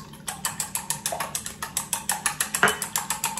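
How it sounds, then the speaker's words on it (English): Eggs being whisked briskly in a bowl for a spicy Indian omelette, a fast, even series of sharp clicking taps against the bowl, close and clear, without talk. "So I'm going to start to whisk"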